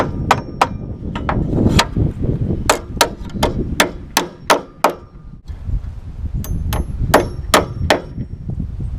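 Hammer strikes driving galvanized 8D 1.5-inch nails into wooden floor joists of a tiny house, sharp ringing blows in quick irregular bursts, close and loud, with a short pause midway.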